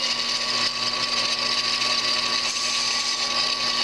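A steady, loud, high-pitched drilling whine runs unbroken as a bit bores through a steel air tank flooded with cutting oil, with no talk over it.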